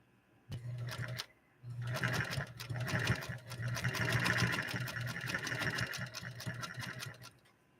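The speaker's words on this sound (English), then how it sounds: "when you're getting the machine set up to sew, you want to rotate that balance wheel to the rear" A New Home Golden Machine sewing machine stitches through four layers of cotton, its steady rapid needle clatter running close and clear for several seconds after a brief start and stop, with no voices.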